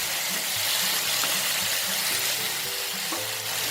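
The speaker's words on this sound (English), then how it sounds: "Now let's sprinkle some water over the okra to allow it to cook easily." Okra stir-frying in a pan hisses and sizzles loudly after water is sprinkled in, a dense steady crackle with faint scraping of stirring underneath.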